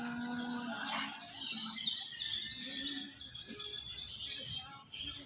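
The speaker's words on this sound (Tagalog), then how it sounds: "Naririnig niyo yung honi ng ibon." Birds chirp and tweet in short bright bursts, fairly faint against a quiet outdoor background, with a low murmur underneath.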